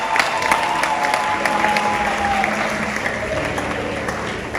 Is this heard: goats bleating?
no